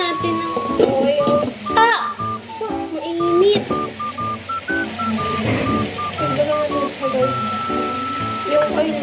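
Tocino frying in a pan at home, a steady sizzle running beneath bright beeping tones and background chatter, close and fairly loud throughout.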